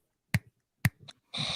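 Two crisp finger snaps ring out about half a second apart, sharp and close, followed by a brief rustle and then a burst of noisy hiss.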